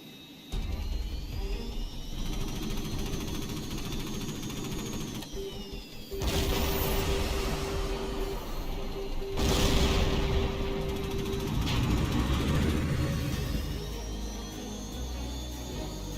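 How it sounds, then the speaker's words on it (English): A large force of enemy bomber aircraft approaches in the combat flight video game Tom Clancy's HAWX 2: a loud, continuous jet roar that swells in places, with a steady whining tone and no talk. "We're picking up a large force of enemy bombers approaching from the north."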